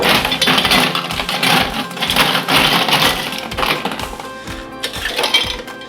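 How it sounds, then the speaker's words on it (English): Ice cubes and water tumble into a metal cocktail shaker tin, a loud, close run of clattering, rattling clinks and knocks that keeps going in irregular bursts with no talk. "I'm going to fill up the shaker with some ice and water."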